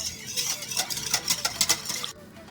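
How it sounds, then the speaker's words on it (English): A stick of butter is worked into pizza dough ingredients for a family-size deep-dish pizza, with rapid wet scraping and stirring strokes in a bowl, fairly close, ending in a brief pause. "she just added the butter and she's going to mix it"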